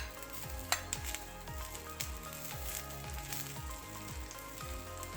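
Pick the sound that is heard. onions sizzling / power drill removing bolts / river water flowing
onions sizzling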